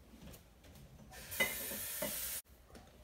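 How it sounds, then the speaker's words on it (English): Water gushes into a jar being rinsed while making elderberry kombucha in a home kitchen. A single loud, hissing burst of running water lasts over a second and cuts off abruptly, with faint handling noises before and after. "I'm gonna give this jar a rinse real quick."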